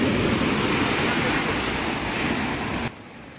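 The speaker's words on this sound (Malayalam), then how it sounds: "കടൽ ഇളകിയതുകൊണ്ടല്ലേ പിന്നിങ്ങനെ അടിക്കുന്നത്" Rough sea surf crashes and roars continuously along the Kerala coast during traditional fishing, a loud, steady broadband wash that drops away abruptly near the end.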